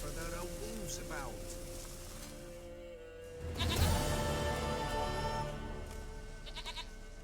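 A goat bleats in The Witcher 3, a short wavering cry heard over ambient game sound, followed by a louder swell of background noise and layered tones.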